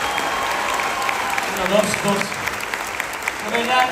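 Audience applause at a first-anniversary concert, a steady wash of clapping with crowd noise and some voices mixed in, loudness swelling slightly toward the middle and end.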